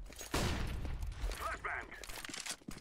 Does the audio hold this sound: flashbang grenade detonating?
yes